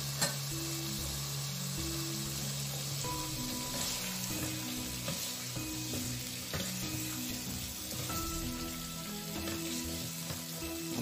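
Beef liver and shatkora sizzling and frying steadily in a pan, a continuous close crackle with occasional stirring scrapes and no talk.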